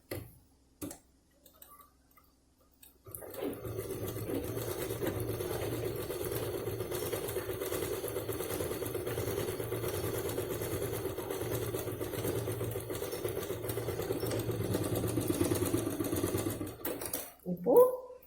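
A sewing machine runs a long steady seam joining several stacked cloth pieces for a handmade purse, its rapid even ticking hum lasting about fifteen seconds after a few quiet taps, then stopping abruptly.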